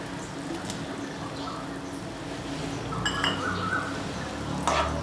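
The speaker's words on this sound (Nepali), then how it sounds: "अब म यसमा अघि फ्राई गरेको सोयाबिन पनि राख्छु।" Fried soybeans go into tomato pickle cooking in a pan, giving a soft steady sizzle with light stirring scrapes and a few metallic clinks against the pan, quiet and close.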